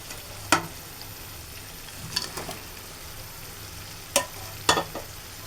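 Tilapia pieces slid into a pan of frying tomato, with a steady soft sizzle broken by a few sharp clinks and scrapes of stirring, close and moderately loud, no talking.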